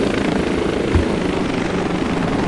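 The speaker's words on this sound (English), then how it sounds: "And an Apache helicopter just killed me." Apache helicopter in the Battlefield Iraq game gives a loud, steady rotor and engine roar, close and continuous throughout with no talk.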